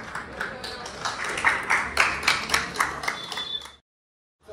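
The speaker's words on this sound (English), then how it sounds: "A round of applause for them." An audience at a college tech fest event claps in applause for a few seconds, a dense patter of hands swelling and then stopping abruptly into silence.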